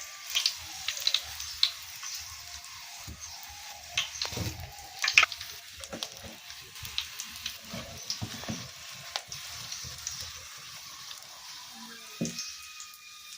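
Oil sizzles and crackles in a pan as tempering spices fry, with intermittent stirring clinks and scrapes; a steady, moderately quiet frying hiss runs throughout.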